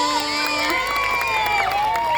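Schoolchildren at a Ramadan ranking competition clapping and cheering for class winners, a steady crowd din with whoops and voices over it.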